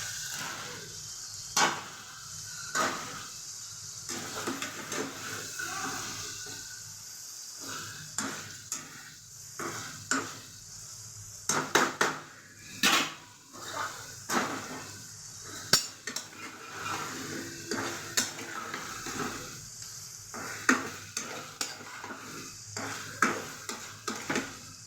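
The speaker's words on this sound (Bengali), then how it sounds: "চিংড়ি মাছটাকে দিয়ে একটু কষাবো" Prawns and taro pieces are stir-fried in a pan, a soft sizzle running beneath frequent clinks and scrapes of a spatula against the metal, coming in irregular bursts at close range.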